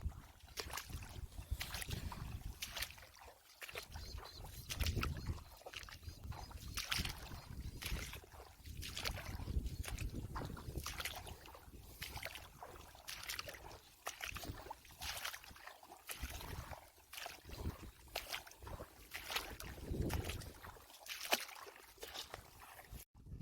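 Small boat moving through water on an Assam farm, with rhythmic swishes and splashes recurring every second or so. The sound is faint and steady, with slight wind noise and no clear speech.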